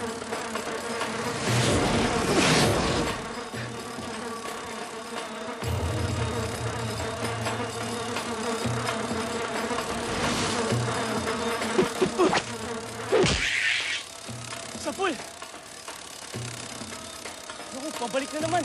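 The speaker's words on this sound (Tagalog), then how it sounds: "Ang laki ng bubuyog!" A large bee buzzes steadily and faintly, with a continuous drone that swells in places, while people talk over it.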